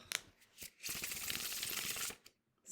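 A deck of playing cards riffled and shuffled close up, a short snap, then a dense, steady burst of crisp flicking for over a second, ending with a few soft taps, no talking.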